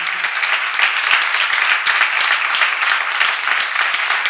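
A church congregation claps loudly and forcefully during a seminar sermon, a dense, sustained wall of applause filling the space, continuous and steady with no speech over it.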